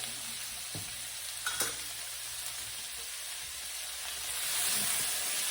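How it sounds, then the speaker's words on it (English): Diced sweet potatoes with a little bouillon paste saute in a pan, giving a close, steady sizzling hiss with a few stirring knocks early on. The sizzle swells a little toward the end. "And we're just gonna saute all of that together."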